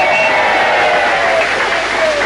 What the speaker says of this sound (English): Another round of applause for Charlie Babcock